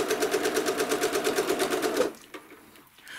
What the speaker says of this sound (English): So I'm going to start stitching